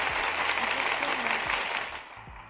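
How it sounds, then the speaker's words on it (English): Audience applause at a talk, a dense broad wash of clapping that stays loud and then fades toward the end, with a voice briefly underneath. "let's just give a round of applause to this guy"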